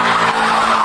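Volkswagen Polo 16-valve hot hatch accelerating hard, with a loud, continuous rushing engine and tire-squeal roar that holds steady and close for under a second.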